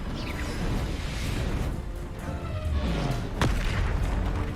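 Bombarda and Confringo spell explosions in Hogwarts Legacy, a run of heavy rumbling booms with whooshing sweeps and a sharp crack, continuous and loud with no talk over them.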